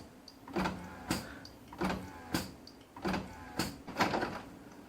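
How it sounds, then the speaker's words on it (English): An HP Officejet Pro 7740 printer runs its maintenance cycle after cartridge installation, giving a series of about eight short mechanical whirring and clunking bursts at a steady, roughly half-second rhythm, close up and alone. "The printer is now undergoing printer maintenance."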